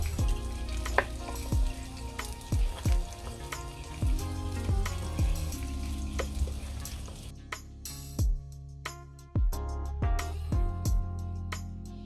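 Courgette frying in a pan over an open fire, a steady loud sizzle broken by repeated sharp scrapes and knocks of a utensil stirring against the pan, with no voices.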